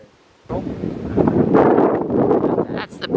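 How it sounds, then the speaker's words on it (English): Wind gusts across a mountain overlook on the Blue Ridge Parkway, buffeting the microphone with loud, rumbling bursts that start abruptly and keep surging. "It is windy up here."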